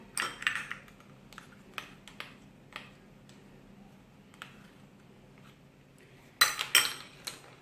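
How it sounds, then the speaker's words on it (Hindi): A spoon stirs corn syrup into brownie batter in a bowl, producing sparse light clinks and taps against the dish, with a livelier cluster of scraping clinks toward the end, quiet and close. "ये ऐड करने के बाद इसे मिक्स कर रहे हैं।"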